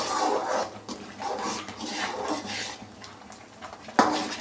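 Banana leaf halwa with cashews being stirred in a pan, a steady close scraping and clinking of utensil against metal, with a sharper knock near the end and no voices.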